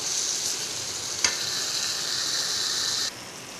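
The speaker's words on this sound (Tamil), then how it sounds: "தக்காளி போட்டு நல்லா வதக்கி விட்டுக்கலாம்." Tomatoes sauté in a hot pan for paneer butter masala, giving a steady, close sizzle with one brief stirring clack early on. The sizzle then cuts down sharply near the end, with no voices.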